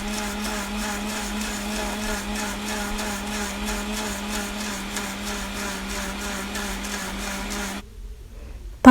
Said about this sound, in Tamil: வாங்க இப்போ அரைச்சி எடுத்துக்கலாம்